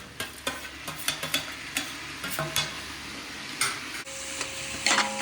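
A spoon stirs chicken biryani ingredients with green chilli, coriander and mint in a sizzling pan, giving repeated scraping and clinking strokes over a steady frying hiss, up close with no talking.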